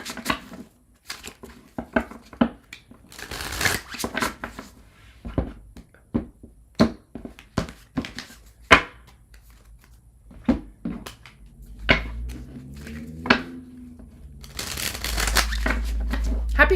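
Tarot cards being shuffled, with quick papery riffles and soft slaps repeating in bursts close by, plus a low hum near the end.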